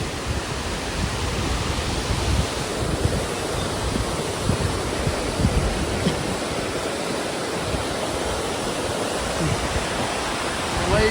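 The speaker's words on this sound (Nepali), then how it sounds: "खोइ खोला त ठुलो आएछ त यार।" A swollen river in flood roars loudly and steadily, a dense continuous rush of water that fills the whole clip with no talk over it.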